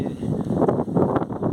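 Strong wind buffets the microphone in steady low rumbling gusts throughout, with no clear voices, during an outdoor barefoot run.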